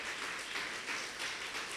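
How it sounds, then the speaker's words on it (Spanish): Church congregation applauding, a dense steady wash of many hands clapping together, fairly even and continuous across the short stretch with no voices above it. "Den un aplauso al Señor por eso."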